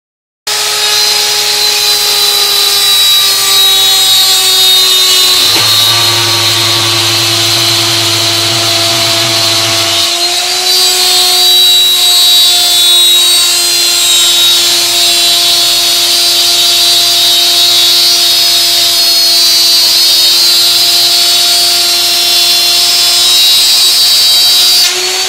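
Power drill running a bit while wooden drawers are made, a loud close continuous whine that falls in pitch as it loads up, briefly deepens to a heavier growl partway through, then steadies for a long run with no talking.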